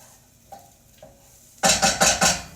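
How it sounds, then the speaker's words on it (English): Onions, garlic and ginger are stirred in a pan, first two faint clinks, then four loud, close bursts of scraping sizzle in quick succession, no talk. "You're going to let that dance with the onions."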